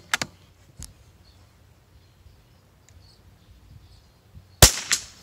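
A Savage MkII FVSR rifle fires on a shooting range: a sharp close crack near the end follows a couple of fainter earlier clicks, with quiet between.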